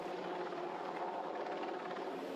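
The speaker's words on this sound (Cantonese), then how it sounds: "飛行服務隊亦派直升機協助搜索" Government Flying Service helicopter searching over Lantau Island for a missing paraglider, a steady, distant rotor drone that stays faint and even throughout with no voices.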